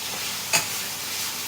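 Potatoes fry in hot oil in a pan with a steady soft sizzle and hiss, broken by a couple of brief louder scrapes or stirs.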